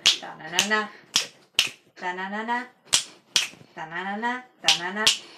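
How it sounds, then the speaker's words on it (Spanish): Sharp, crisp finger snaps crack out about seven times at irregular intervals, close and loud, while voices talk between and over them during playful snapping practice at Galaxia Funko. "Chasquido"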